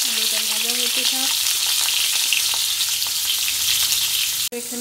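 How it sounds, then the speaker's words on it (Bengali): Potatoes fry in hot oil on a gas stove with a loud, steady, close crackling sizzle, and a brief clunk near the end. "চলো আলুটা ভাজা হতে থাক।"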